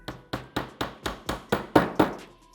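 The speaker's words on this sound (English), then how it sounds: "The hammer, I'm going to use the Delrin side of the hammer" The Delrin side of a hammer taps a roll pin into the sear cage of a Walther PDP pistol in about nine even, sharp knocks, close and fairly loud and growing slightly stronger toward the end.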